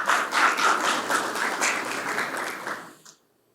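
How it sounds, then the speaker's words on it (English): An audience at a cybersecurity panel session claps for an industry partner, a moderate wash of applause that holds steady and then tapers off and stops shortly before the end. "A big round of applause for our industry sector partner"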